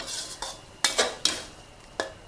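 A utensil scrapes and clatters in a pan while minced fish is stir-fried, with several sharp, close scraping strokes at an uneven pace over a faint sizzle.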